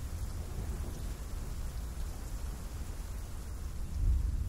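Steady heavy rain pours down with deep rumbling thunder underneath, a dense, constant wash of sound that swells louder near the end, with no voices.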